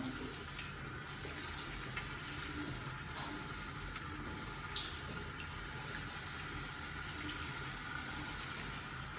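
Running water rinsing shampoo out of hair at a salon during a keratin treatment, a steady, even rush of flowing water lasting throughout.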